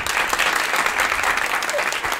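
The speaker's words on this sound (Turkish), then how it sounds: "Bence alkışlatalım." Studio audience at a Turkish interactive talk show breaks into steady, dense applause, many hands clapping loudly and continuously throughout, with no pauses.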